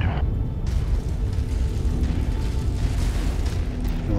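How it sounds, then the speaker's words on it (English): Artillery shell explosions in a war video game, heavy rumbling booms rolling together into a sustained low roar, loud and near, with a sharp burst at the start. "Artillery, open fire."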